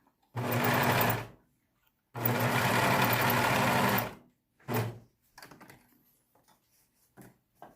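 A sewing machine stitches fabric and elastic on a face mask in two loud, close bursts, followed by a shorter burst and a few faint clicks and handling sounds.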